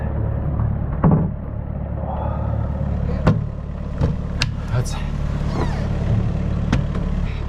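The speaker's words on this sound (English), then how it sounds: "as you can hear, we got the engine running because the batteries are so low" A sailboat's engine runs steadily at anchor, a constant low mid-pitched drone with ongoing rumble, punctuated by occasional knocks and clatters of gear on board as a storm approaches.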